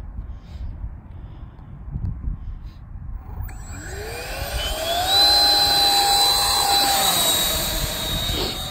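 A Freewing F9F Panther 64mm EDF radio-controlled jet on 4S power launches outdoors in wind. After a few seconds of low background rumble, a loud rising fan whine spools up sharply and stays strong, sounding close.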